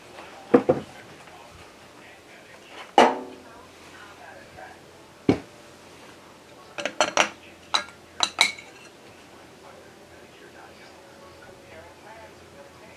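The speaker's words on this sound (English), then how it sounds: "Mix that chocolate pudding up." Chocolate pudding mixed in a bowl, with scattered sharp clinks and scrapes of a utensil against the bowl, some in quick clusters, separated by quiet gaps.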